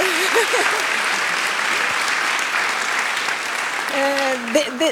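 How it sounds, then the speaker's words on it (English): An audience applauds sixth-grade pupils from Marienlyst school at a nature awards event, with a steady, dense wash of clapping throughout and a voice speaking briefly at the start and end. "give them an applause"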